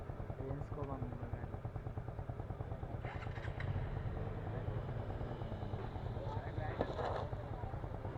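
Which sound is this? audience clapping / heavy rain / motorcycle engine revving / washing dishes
motorcycle engine revving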